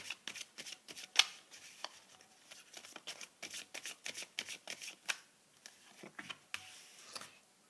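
Tarot cards being laid out one after another, a soft run of quick papery flicks and taps close by, faint and irregular with no talking.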